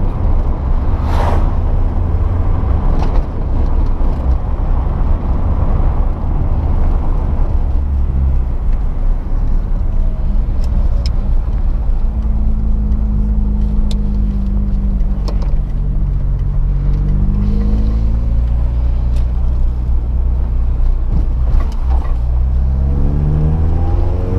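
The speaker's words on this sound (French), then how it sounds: "Laisser chauffer tranquillement avant vraiment de monter dans les tours" Renault Clio 16 engine idling steadily while warming up, a loud continuous low rumble heard close, with a faint rising and falling whine.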